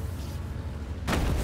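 An explosion in the War Thunder combat game lands as a sudden loud broadband burst about two-thirds of the way through, rising out of a steady rumbling battle background and holding strong to the end.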